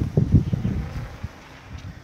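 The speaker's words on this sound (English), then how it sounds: "windy outside here." Wind blowing outdoors on a breezy day, buffeting close to the microphone in low, rumbling gusts that are strongest in the first second, then settle into a softer, steadier rush.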